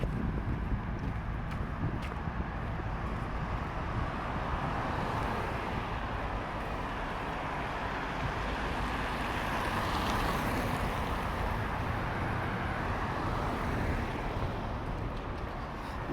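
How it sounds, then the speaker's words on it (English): Steady, continuous street traffic noise from walking along Barrington Street downtown, a broad, unbroken wash of passing vehicles with some wind buffeting the microphone throughout. "Yeah, there's traffic noise here."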